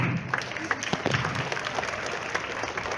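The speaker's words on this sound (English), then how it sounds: "all the other students, you have to clap for them" Students at a school morning assembly clap for a classmate named as a winner, a steady patter of many hands at moderate loudness with a voice faintly under it.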